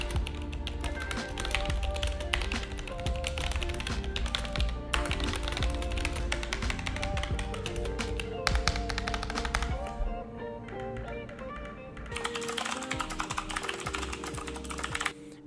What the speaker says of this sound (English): Our review unit though comes with the RX Red optical switches.